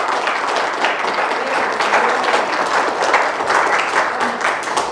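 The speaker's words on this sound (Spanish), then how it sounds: "Denle un aplauso al Señor." A church congregation claps together in dense, continuous applause that stays strong and even throughout, with a few voices faintly mixed into the crowd.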